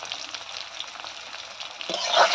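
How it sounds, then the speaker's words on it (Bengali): Onions frying in oil with bay leaf, dried red chilli, cumin, whole garam masala and a pinch of sugar for a jackfruit-and-prawn curry; a steady close sizzle, with a brief louder stir near the end. "পেঁয়াজটা ভালো করে ভেজে নেব।"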